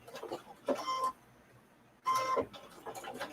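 Sewing machine stitching a 1/4 inch seam on a placemat, two short bursts of rapid mechanical whirring and clatter separated by a quiet pause, close and moderately loud.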